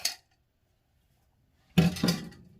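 A brief metal clink at the start, then after a pause a cluster of fork-on-bowl clinks and scraping while matzo meal is mixed, close and fairly loud.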